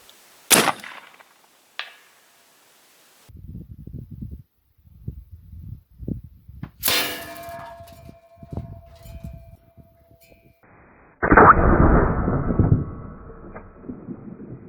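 AirForce Texan .457 air rifle shots outdoors: a sharp crack near the start, another bang midway, then a louder burst near the end as a steel ringer target is hit behind a deer target, with quiet rustling and handling noises between.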